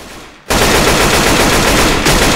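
Continuous assault rifle fire in the zombie shooter Left 4 Dead 2, a loud dense burst that starts abruptly after a brief quieter moment and keeps going without a break.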